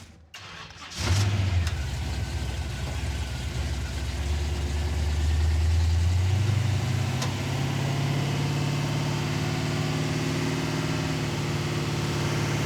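A 700 hp Hemi-swapped Gremlin sits idling in traffic, its engine catching after a brief starting burst and then holding a steady, close, loud low rumble throughout, with no voices.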